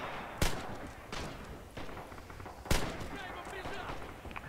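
Gunfire in the video game Rising Storm, with two sharp, loud shots standing out over a steady, dense backdrop of distant battle noise, without talk.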